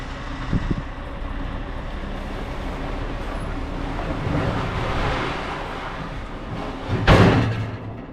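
A lorry pulls away from a new Langendorf extending trailer with its pins out and trailer brakes on, stretching it out: a steady low rumble of engine and strain, then a sharp, loud metallic clank near the end.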